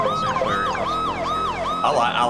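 A loud police siren from a video game roleplay wails in steady rising and falling sweeps, up close and with nothing else over it.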